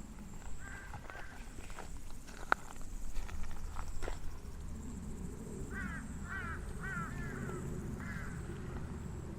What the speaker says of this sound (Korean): 까마귀가 까까거리니까더 으스스하네요.